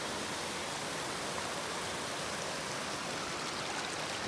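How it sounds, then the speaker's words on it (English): A small stream spills over little waterfalls beside an Appalachian Trail crossing, a steady broadband rushing and splashing that fills the scene evenly without pause, close and moderately loud. "Well, just crossing a little stream."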